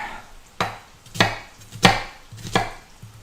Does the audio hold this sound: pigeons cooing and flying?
no